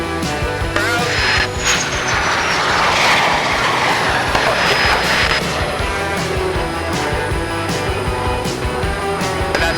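Fighter jet roaring past at speed during a formation flight over a charity event, a loud continuous engine rush that swells and holds throughout.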